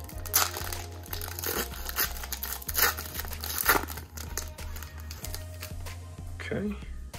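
Donruss trading card pack wrapper being torn open and crinkled by hand, a series of crisp rips and crackling foil rustles close up, with someone talking over them.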